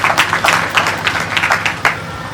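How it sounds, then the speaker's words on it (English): A gathering audience applauds for about two seconds, the clapping loud and close, with individual claps rising and falling as a brief round of applause. "you can even give yourself a round of applause for that"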